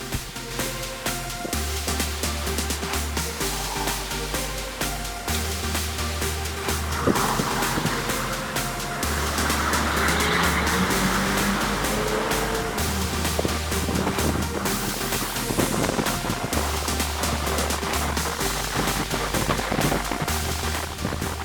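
A BMW E46 325i on coilover suspension out on a road test, with a constant loud rumble of road and wind noise and a deep low drone that holds steady for the whole stretch, with no talking.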